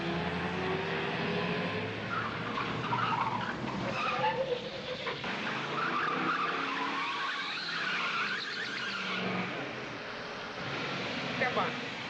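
Car speeding and skidding in a chase in a 1936 film, a continuous roar of engine and tire squeal with shifting pitch under voices, sounding thin and hissy like an old recording.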